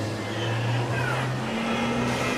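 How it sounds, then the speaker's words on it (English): A Formula Student race car from the Valencia team idles and hums steadily during a driver change at the endurance event, with a low engine drone and a faint rising whine, no talk heard. "Let me try and catch a sound fragment of the driver change of the Valencia car."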